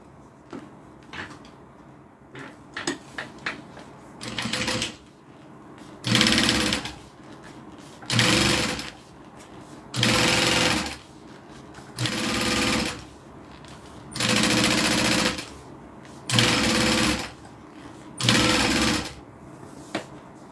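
A sewing machine stitching down the zip on a zip-around wallet, running in about eight steady bursts of a few seconds each with short pauses between, close and loud over quiet room noise.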